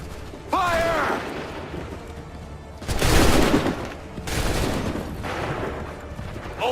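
Musket volley fire in Assassin's Creed III: loud ragged bursts of massed gunfire rolling out in several waves, with a shouted voice heard briefly near the start.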